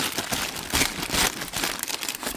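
Packaging from boxed lamps being unwrapped gives close, loud crinkling and rustling with a few sharper crunchy swells, and no voices over it.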